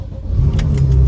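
A car engine cranks and catches after the key is turned, the low idle rumble swelling steadily and loudly over about a second.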